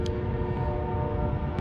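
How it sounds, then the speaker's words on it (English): A train passing near a bluegill fishing spot, giving a loud, steady low rumble with rail noise and a faint horn-like tone throughout. "Now there's a train coming."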